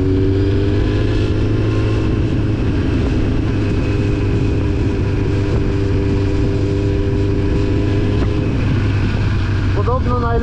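An old Honda Fireblade sport motorcycle on fresh, unridden Sport tyres drones steadily with a continuous engine hum while riding. Wind rushes past, and the engine climbs in pitch briefly near the end.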